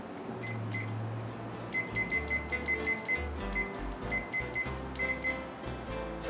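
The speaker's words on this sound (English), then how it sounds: "So I will set my timer." A kitchen oven timer is set with a run of short, evenly spaced beeps from button presses, close by, over a low appliance hum and no talk.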